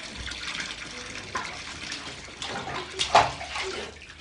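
Hot water heated on the roof by the sun runs into a bathtub, a continuous close gushing and splashing with a slightly louder surge near the end.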